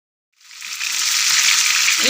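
Chapli kebabs fry in hot oil in a pan, a steady broadband sizzle that begins abruptly after a short silence and holds loud and even, with a faint clink near the end.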